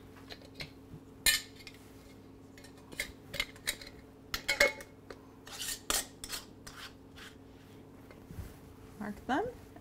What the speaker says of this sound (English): Put my lids on.